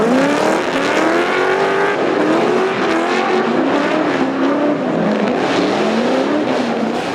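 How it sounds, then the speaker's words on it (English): Milwaukee V8 Supra drift car with a GT86 front-end conversion at a drifting event at Mt Smart Stadium, Auckland, loud close V8 engine wailing and bouncing up and down in pitch as it revs through a drift. "The Milwaukee V8 Supra now featuring a GT86 front-end conversion"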